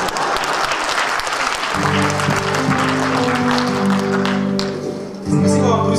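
An audience at a KVN comedy show in Anadyr, Chukotka, applauds steadily, with sustained dense clapping while music plays underneath.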